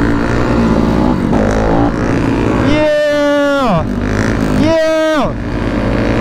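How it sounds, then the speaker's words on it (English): A motorbike engine revs while being ridden, rising and falling in pitch in two distinct surges over steady background noise, with people talking loudly alongside. "No, that's Jimmy's old bike, bro"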